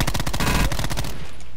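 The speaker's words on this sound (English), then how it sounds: "he's hitting me with a shotgun" Rapid loud gunfire bursts from a shotgun in a video game, several sharp blasts in quick succession, then cutting off abruptly.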